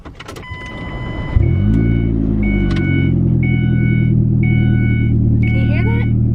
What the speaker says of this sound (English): I'm gonna crank up my car.